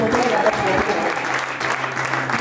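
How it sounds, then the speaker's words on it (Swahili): Church congregation applauding, sustained crowd clapping close and steady, with a voice talking over it. "Wapigie makofi, wapigie makofi."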